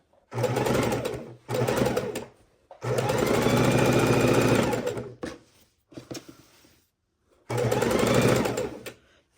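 Sewing machine stitching quilt fabric pieces for an easy four-fabric quilt, running in several loud close bursts of rapid whirring stitches with short pauses between them.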